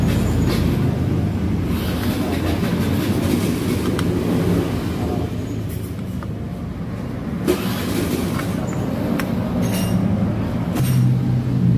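A Honda Verza motorcycle engine runs after its starter motor is repaired, a close, steady low rumble that holds fairly even for the whole stretch, with slight swells and some faint background noise.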